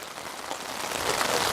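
Steady rain patters on surfaces during a flood in Jaffna, a dense continuous hiss close by that builds slightly louder.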